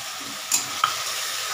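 Spice paste for chicken kasa sautéing in a pan, a short burst of steady sizzling with two quick clinks of a spoon against the pan, and no talk.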